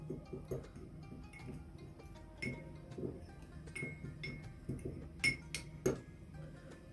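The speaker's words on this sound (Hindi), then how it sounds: "अच्छी तरह से सारे मसालों को मिक्स कर लेंगे।" Spices for Chinioti kunna gosht mixed in a bowl, quiet clinks and soft scraping taps from a spoon against the dish at an uneven pace, with a couple of sharper rings near the end.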